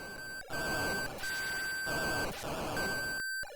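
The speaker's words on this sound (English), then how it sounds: "When that beeping sound happens, that's to indicate that you are in line with the target." A steady high electronic target-lock beep from a Sega SG-1000 game sounds in long stretches over a loud rumbling game-engine roar, cutting off briefly between bursts.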